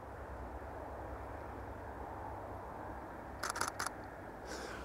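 A camera shutter fires in a quick burst of crisp clicks during handheld sunset photography, sharp and close against a steady low background hum.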